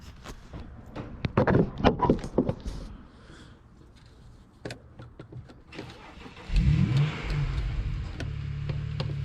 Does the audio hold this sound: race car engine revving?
yes